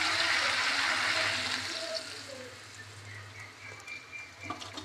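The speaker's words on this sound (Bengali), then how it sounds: "চলুন, এবার জলটা অ্যাড করে দিলাম।" Water poured into a pan of well-fried potatoes with tomato lets out a loud, close hiss and bubbling that gradually fades to a quieter simmer.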